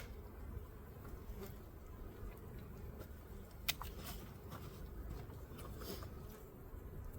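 Honeybees buzz around an opened hive during a spring inspection, a soft, continuous swarm hum close by, with faint clicks and handling sounds.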